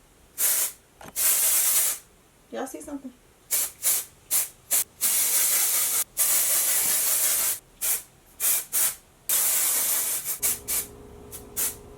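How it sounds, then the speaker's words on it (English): An aerosol can of blue spray-on hair color hisses in repeated short and long bursts, close by, with brief gaps between sprays; a voice speaks briefly in the middle. "Like I just sprayed a bunch of hairspray in it"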